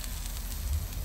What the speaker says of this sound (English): sauteing the garlics and pepper, trying to get it like oven roasted, but I'm roasting it on a frying pan